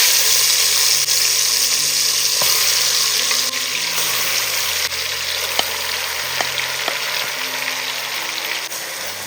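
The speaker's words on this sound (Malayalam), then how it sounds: "ചിക്കൻ ഇട്ട് കൊടുക്കാം." Chicken pieces sizzle and fry steadily in hot oil with spices over a medium flame for chicken biryani, a loud continuous crackle with a few sharp utensil clinks and a low background music bed.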